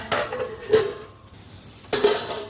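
A metal lid settles onto a pot of fish biryani in a home kitchen, giving two or three clanks, close and fairly loud, with quieter rattling between them.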